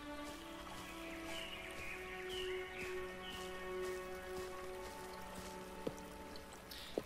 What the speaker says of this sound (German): Dann plätschert das schon mal ein bisschen.